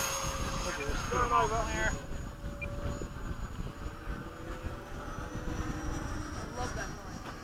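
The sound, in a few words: MiG-21 model jet flying at high speed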